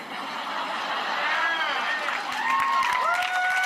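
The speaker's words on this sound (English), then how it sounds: "Big applause break there." A stand-up comedy crowd breaks into applause and cheering during a live special, a loud sustained roar of clapping and shouts with voices rising through it.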